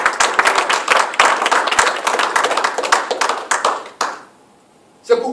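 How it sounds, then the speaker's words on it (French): A church congregation claps together in a dense, loud burst of praise lasting about four seconds, then it cuts to near silence before a final short flurry of hands. "Est-ce qu'on peut acclamer pour la gloire de notre Dieu?"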